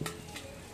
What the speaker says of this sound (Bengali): এখন কড়াইয়ের মধ্যে দিয়ে একটু গরম করে নিই,